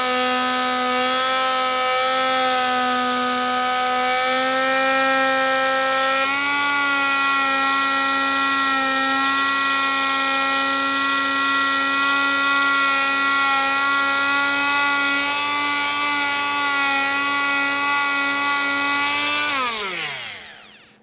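A power polisher buffs old Mercedes trim with a continuous high-pitched whine that holds steady and shifts pitch slightly partway through. It winds down abruptly at the end, with no talking.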